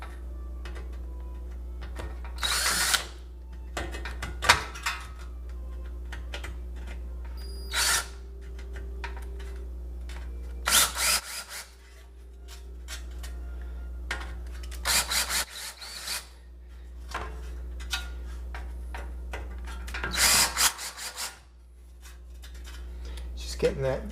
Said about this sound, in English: I have this little countersink bit that I've used for the last 30 years or so for exactly this purpose.